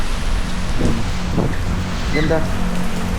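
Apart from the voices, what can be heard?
heavy rain pouring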